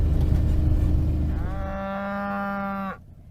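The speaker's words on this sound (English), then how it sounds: "We're going to gather a few cows up and get them in and shift a few about here and there." A cow on a farm, being rounded up with others, lets out one long, drawn-out moo close by, following a low rumbling background that fades as the call rings out alone.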